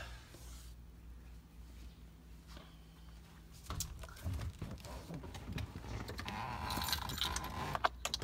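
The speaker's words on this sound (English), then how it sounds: "put my keys in the ignition" Keys jangling close by inside a 2001 GMC Sierra 2500HD truck cab before going into the ignition, a soft metallic rattle that grows busier over a few seconds amid low background rumble.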